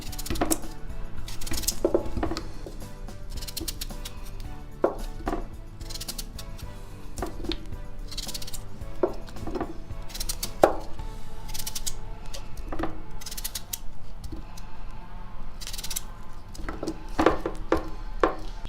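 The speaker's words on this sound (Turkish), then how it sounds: "Şu şekilde şu kalınlıkta doğruyoruz patateslerimizi." A knife slices through firm raw potatoes on a board, irregular crisp cuts and taps scattered over a quiet background, close by.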